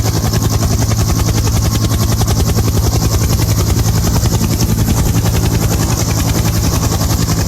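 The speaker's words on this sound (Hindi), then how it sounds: "यहां हेलीकॉप्टर के जरिए राहत सामग्री भेजनी पड़ रही है।" A helicopter carrying flood relief supplies in Assam drones steadily close by, its rotor chop loud and continuous throughout, with no voices.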